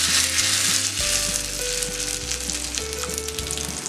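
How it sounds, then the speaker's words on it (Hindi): Hot tempering of mustard seeds and curry leaves sizzles as it is poured into green mango chutney, a loud, steady frying hiss with a few low tonal hums underneath and no talking. "अभी ये तड़का हम चटनी में डालेंगे।"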